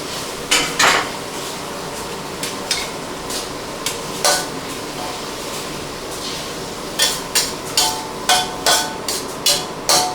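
A metal utensil scrapes and clanks against a pan in irregular bursts, then in a quicker steady rhythm, over a low hiss, stir-frying catfish with celery, ginger and sauce over high heat.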